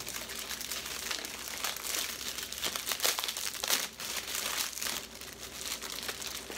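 Packaging around a new wallet crinkles and crumples as it is opened, close by and fairly quiet, in irregular rustling bursts throughout.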